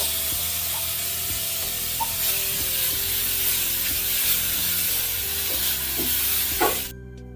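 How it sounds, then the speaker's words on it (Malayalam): Grated coconut sizzles steadily in a hot pan while being toasted for a village-style potato curry. The close, even hiss runs with no talk and stops abruptly near the end. "ഇപ്പൊ പാത്രം ഒന്ന് നന്നായിട്ട് ചൂടായി വരുന്ന സമയത്ത് നമ്മൾ ഇതിലോട്ട് തേങ്ങ ചേർത്ത് കൊടുക്കാം"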